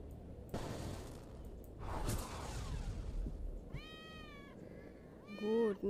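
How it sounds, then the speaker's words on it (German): Cats meow in the Harry Potter and the Order of the Phoenix video game: a few dull thumps come first, then several clear, drawn-out meows near the end. "Scheiß Katzen."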